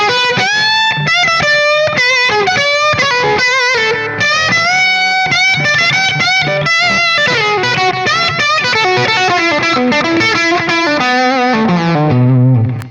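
Distorted electric guitar through a slapback delay pedal plays a melodic line with short echoing repeats trailing each note, loud and close, ending on a descending run.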